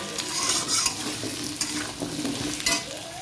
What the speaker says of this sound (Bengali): এটা মাছের তরকারিটা বসাচ্ছি, পেঁয়াজ দিয়ে দিয়েছি, গাঁটি কচু আলু দিয়ে দিয়েছি একসাথে